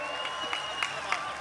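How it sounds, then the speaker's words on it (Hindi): Audience applause at a Hindi comic poetry gathering, a steady wash of clapping with a few sharper bursts spread through the short stretch, moderately loud and continuous. "ताली बजाओ यार, कम से कम गर्माहट यहाँ आए"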